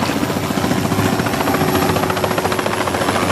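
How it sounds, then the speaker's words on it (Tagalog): Soldiers' helicopter heard loud and close, a continuous dense rotor chop and engine roar filling the whole stretch without pause. "Helikopter dagiti soldado."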